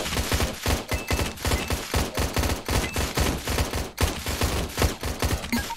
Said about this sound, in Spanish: Mira cómo disparo.